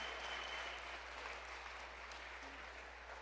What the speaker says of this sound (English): Can we give yourselves a big round of applause?